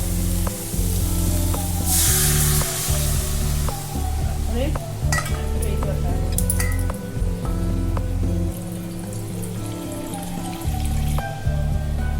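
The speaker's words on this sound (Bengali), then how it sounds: "এবার এই জলটা আগে ঢালবো" Water poured into a pan of fried spiced curry hits with a loud hissing sizzle, then bubbles and clinks of stirring continue steadily, close and busy throughout.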